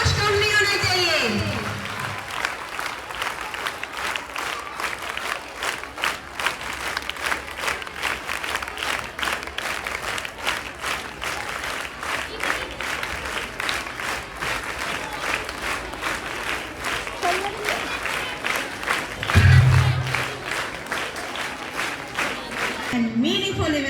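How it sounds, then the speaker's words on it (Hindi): Sustained audience applause at the inauguration of a model astronomy lab, a long steady wash of many hands clapping with a brief louder swell near the end, crowd murmur beneath it. "तालियां रुकनी नहीं चाहिए और जोश कम नहीं होना चाहिए।"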